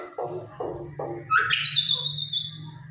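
A pet myna makes a few soft clucks, then a loud, bright, warbling whistle close to the microphone, over a low steady hum.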